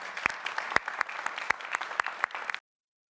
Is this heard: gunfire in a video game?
no